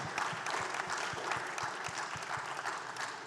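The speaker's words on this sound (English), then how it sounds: "A big round of applause to each and every one of you." Audience applause for a panel at an Eastern Africa music summit, a dense, sustained clatter of many hands in a room, steady and fairly loud with a few distinct nearer claps punctuating the roar.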